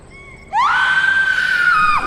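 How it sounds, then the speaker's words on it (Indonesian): A loud, sustained scream erupts suddenly, holding a piercing high pitch for over a second before breaking off. "Teriaknya kenceng banget ya?"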